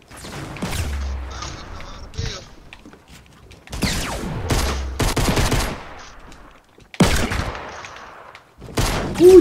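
Bursts of automatic gunfire in Fortnite, with rapid volleys recurring across the clip, some loud and close, some separated by short gaps, over a busy game soundscape.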